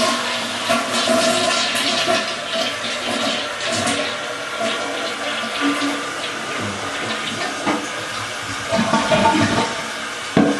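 A household toilet flushes after a new wax ring was fitted, the water rushing and gurgling loudly and close for the full stretch, then refilling, with no talk over it.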